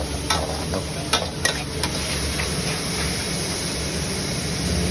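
Holy basil with dried chillies stir-fried in oil the old-fashioned way, a steady close sizzle and hiss under scraping spatula strokes against the pan, with several sharper clanks early on.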